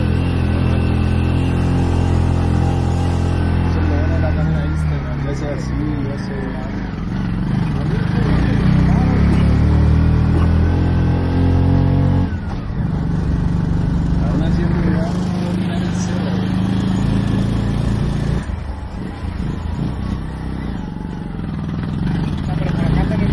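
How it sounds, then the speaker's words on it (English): A mototaxi (tuk-tuk) engine runs steadily close by, a buzzing motorcycle-like drone that surges with throttle, while people talk over it. "Es un mototaxi."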